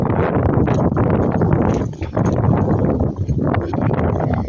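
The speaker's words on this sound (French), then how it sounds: "Ouah, il y a du vent," Strong wind buffets the microphone outdoors, a loud, continuous roaring rumble with gusty surges and brief dips, no voices heard.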